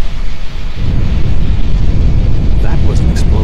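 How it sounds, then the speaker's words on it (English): A heavy explosion in the Star Trek Online game booms loud and dense, a sustained low rumble that carries on as a roaring wash for several seconds, with a few faint higher effects near the end. "That was an explosion of sufficient magnitude to cause a breach."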